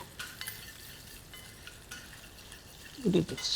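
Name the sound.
stirring curry leaves, mustard seeds, ginger and chili in hot oil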